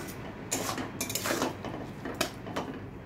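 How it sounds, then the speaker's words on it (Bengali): A spoon scrapes and clatters against a pan while stirring green chili pickle with jaggery and tamarind over a raised flame, producing several close, uneven metallic scrapes in short bursts with no talking. "দিয়ে হালকাভাবে একটু 1-2 মিনিট এভাবে নাড়াচাড়া করবেন"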